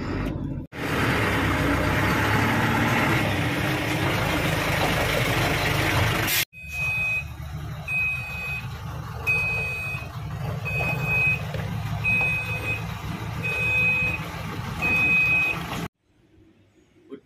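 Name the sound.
Foreland forward dump truck engine idling and reversing beeps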